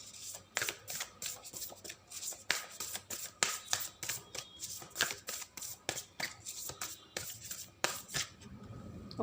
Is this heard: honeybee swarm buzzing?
no